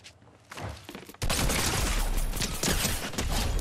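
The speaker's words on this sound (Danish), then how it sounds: "jeg tror, det var det sidste skud" Gunfire in a video game: a quieter stretch gives way to a loud, sustained burst of rapid shots that continues to the end.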